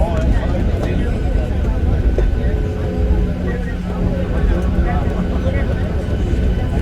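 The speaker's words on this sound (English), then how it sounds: "You guys are witnessing a whole takeoff, okay?" Steady loud roar of a passenger airplane's engines during takeoff on a flight to San Salvador, El Salvador, heard from inside the cabin as a continuous low rumble with a voice talking over it.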